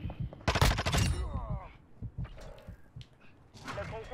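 Gunfire from a Vaznev-9K in Call of Duty Modern Warfare 2 multiplayer, a loud burst of rapid shots up front, then scattered quieter shots and game effects, with a voice talking over parts of it.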